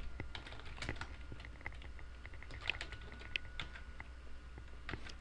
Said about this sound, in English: now I'm going to address it, and this person is not in my database at the moment, so I'm going to type in